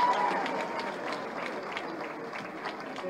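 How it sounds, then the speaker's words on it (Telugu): A crowd at a BRS women's political speech claps continuously in a dense, fairly distant wash, with some voices mixed into the applause. "గట్టిగా చప్పట్లు కొట్టారు"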